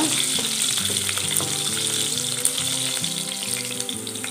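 Four or five garlic cloves fry in hot oil in a pan while being stirred, giving a loud, continuous sizzle with a recurring scrape of the spatula and occasional sharper clicks.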